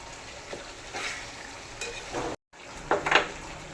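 Chicken frying in a pan as ginger garlic paste is stirred in, with steady sizzling and scraping spoon strokes against the pan, briefly cut silent midway.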